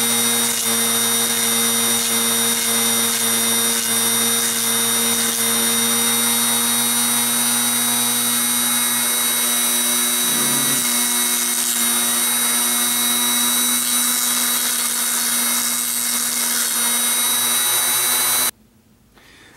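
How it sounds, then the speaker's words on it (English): A power tool sands the ports of a rotary engine in a steady, unbroken high whine with a constant grinding hiss, running loud and close for almost the whole stretch before stopping just at the end. "I'm just gonna keep sanding away at this one"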